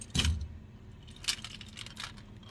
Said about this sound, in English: Get the keys out here.